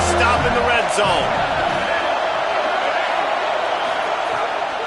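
A stadium crowd roars in a college football video game as the home defense tries for a stop in the red zone, a dense sustained wash of cheering behind a commentator's voice.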